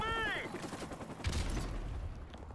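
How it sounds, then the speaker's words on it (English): Modern Warfare Remastered M4 rifle fire: a quick, faint rattle of shots follows a brief tonal chime, close but quiet, with talking mixed in. "the M4 shoots nice"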